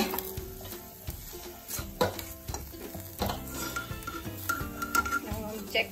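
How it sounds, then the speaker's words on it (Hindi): Okra coated in gram flour (besan) stirring and roasting in a pan, with a soft steady sizzle and repeated scraping, clattering strokes of a spoon against the pan throughout. "थोड़ी देर भूनेंगे, हालांकि हमारे बेसन ऑलरेडी भुना हुआ है, फिर भी हम थोड़ा सा टाइम देंगे"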